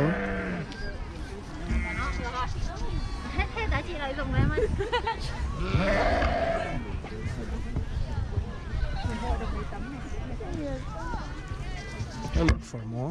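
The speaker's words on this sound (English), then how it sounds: "They are rearing the sheep here." Sheep bleat repeatedly on a grassland farm in the Taiwanese highlands at Qingjing, their calls rising over a steady babble of people talking and walking nearby.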